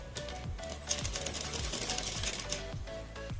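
A sewing machine stitches a loose fabric strip along a boat-neck blouse neckline, giving a close, steady mechanical whirr with a quick repeating stitch rhythm and short pauses.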